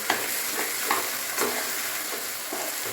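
Sago pearls stirred in a hot pan, with a spoon scraping in steady repeated strokes over a soft, continuous sizzle, close and fairly loud, no talking.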